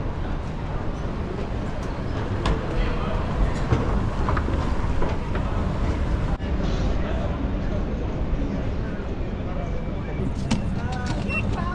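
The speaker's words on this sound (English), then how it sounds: "This is our train." A British train near Canterbury rumbles loudly and steadily, with rattling carriages and a brief dip in the noise midway, voices faintly underneath.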